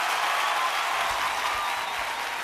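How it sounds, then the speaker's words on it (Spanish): Concert crowd applause for a Cuban charanga band at a live show, a thick, even roar of clapping and cheering sustained without break, with low thumps faintly underneath. "aplauso, aplauso para la charanga"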